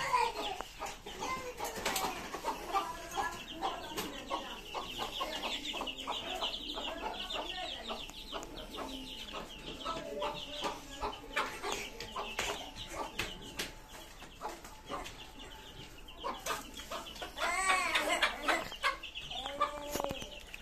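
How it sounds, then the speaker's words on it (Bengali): Tiger chicken chicks and fowl cluck and peep repeatedly at close range, with scattered rustling and a few louder calls near the end. "এই যে দেখতে পাচ্ছেন টাইগার মুরগির বাচ্চাগুলো ফুটাইছিলাম"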